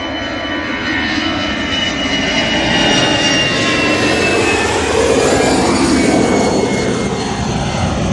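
Close, loud, sustained roar of a Qatar Airways Boeing 787 jet engine during its takeoff run, a dense continuous rumble and whine that holds steady throughout.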